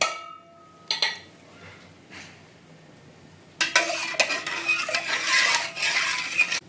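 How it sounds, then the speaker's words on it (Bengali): A metal spoon clinks and scrapes against a hot pot, stirring spices for a Kolkata-style chicken biryani, with sparse knocks early and a denser, louder burst of stirring toward the end. "আর এটা ভালো করে একটু নাড়িয়ে দেব।"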